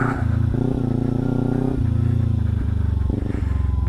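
Kawasaki Ninja 300 motorcycle ridden off road, its engine revving up and down in uneven surges with throttle blips and clatter, loud and close.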